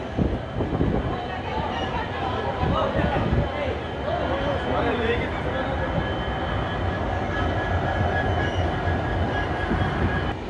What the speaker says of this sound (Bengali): বালেশ্বর ছেড়ে ট্রেন বেরিয়ে গেল, ডিপার্ট করে গেছে।